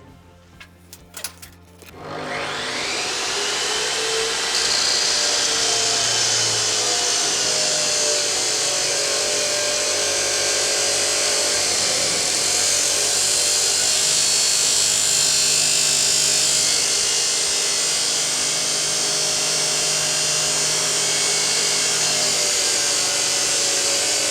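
A Metabo CS24 355 metal chop saw spins up after a few brief clunks and then cuts continuously, a loud sustained high-pitched whine and grinding scream that holds steady and close for the rest of the clip.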